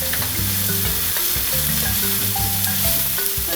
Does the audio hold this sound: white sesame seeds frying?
yes